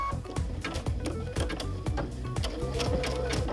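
Sewing machine with an open toe foot stitching raw edge applique in rayon embroidery thread, a quick rhythmic clatter of needle strokes with regular thumping pulses, close and steady throughout.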